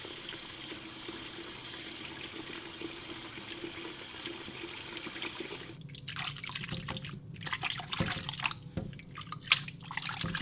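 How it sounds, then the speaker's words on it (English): Water trickles and drips while eggs are rinsed in a sink, faint and close, starting as a steady running wash and turning into sparser splashes and drips near the end. "Okay, that was the final rinse."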